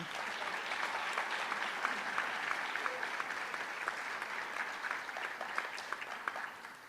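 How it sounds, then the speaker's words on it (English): Even, moderately distant applause from the audience at a high school awards night honouring student service and leadership award recipients, continuous clapping for about seven seconds. "Please join me in one more round of applause for these children."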